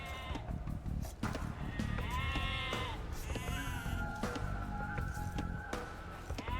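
Repeated sheep bleats from the Age of Empires II: Definitive Edition game, several overlapping calls with wavering pitch, fairly loud over a steady background of game ambience and effects.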